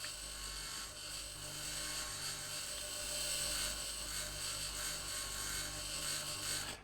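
A grinder in the Occupy Mars video game chews through scrap with a steady, high mechanical whine and buzzing drone that holds level throughout, with no voices over it.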